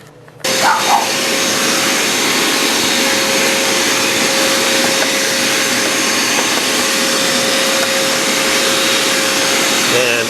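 Hyper Tough vacuum cleaner running steadily up close while cleaning dust and dirt out of an air conditioner, a loud continuous whine with a sharp tonal hum that starts abruptly and holds without a break.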